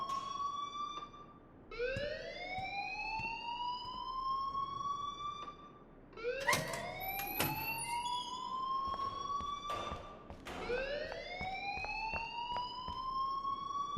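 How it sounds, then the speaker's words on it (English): A wailing alarm in Life is Strange sweeps upward in repeated rising cycles, each lasting a few seconds, with sharp clicks and clatter between the sweeps. It sounds fairly distant and moderately loud against a steady background. "please turn off that alarm since that's your job"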